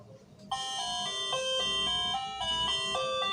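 A wired doorbell installed for a laundry shop plays an electronic chime melody, a bright, clear run of stepped tones ringing steadily after a short quiet start, with no voices.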